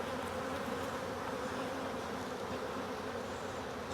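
A dense swarm of honey bees hums steadily and close while a nuc is installed into a hive, a continuous, even buzzing with no pauses and no voices.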